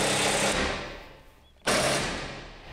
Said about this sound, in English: We're nice there, and we can tighten that bolt up.